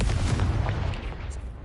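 A Confringo fire spell blast in Hogwarts Legacy lands as a short, heavy boom, loud and close, with a rumbling low body that fades quickly.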